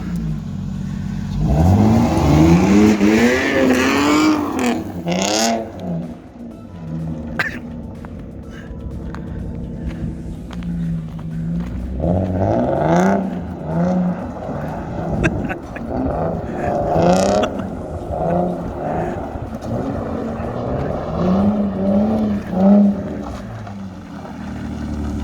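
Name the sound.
car engine revving during test drive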